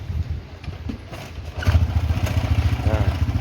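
A Honda Wave 125i motorcycle engine fires up and runs in a quick putt-putt rhythm close by, with a little clatter before it catches.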